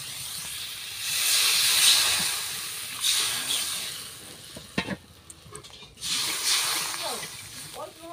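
Water poured onto spice paste frying in a pan sets off a loud, broad hiss that fades and flares again. Someone talks over it at times, with a few utensil clinks.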